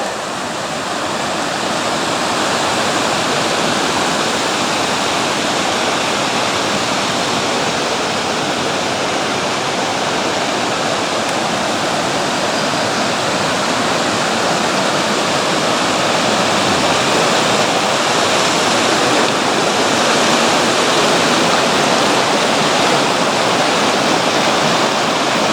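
A waterfall on the Ruisseau de l'Enfer at Mont Dore roars in a steady, dense rush of falling water, loud and constant with no other sounds breaking through.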